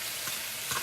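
Onions sautéing in olive oil in a frying pan, a steady close sizzle with a couple of brief louder flare-ups, heard alone.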